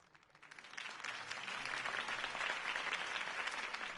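Crowd applause after a campaign speech for Harvey Dent, starting faint and swelling within the first second into a sustained, dense, fairly distant roar of clapping.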